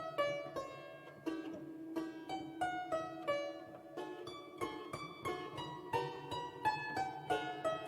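A piano plays the opening of Beethoven's Sonata No. 19, Op. 49 No. 1, in strict, even time, the notes struck cleanly one after another in a steady pulse, solo and fairly quiet.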